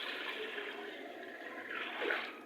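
Water poured from a jug into a cooking pot while making haleem, a soft continuous splash and gurgle that swells briefly near the end, quiet and close.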